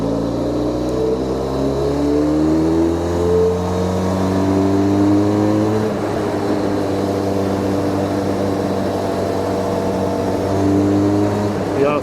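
A Harley-Davidson X500 motorcycle engine, a 360-degree crank twin, climbs and falls through the revs on a test ride, its tone rising in pitch, dropping around midway, then rising again under steady wind noise.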